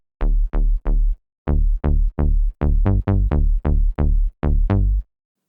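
An FM8 house bass patch with an inverted operator phase plays a punchy, bouncy riff of about fourteen short plucked notes with fast decays in a syncopated groove, loud and alone before stopping.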